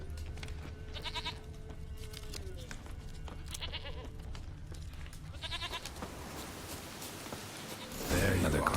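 A goat bleats in The Witcher 3, with three short wavering cries spread across the clip under someone talking, and a louder rustling noise at the end.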